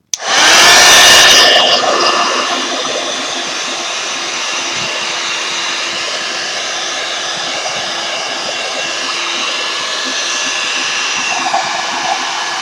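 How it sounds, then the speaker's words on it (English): A hair dryer blows steadily to dry spray ink on a craft project, starting with a loud burst of air and then settling into a constant, close whooshing hum that runs alone to the end. "I'm going to dry it real quick so that hopefully this will stay put."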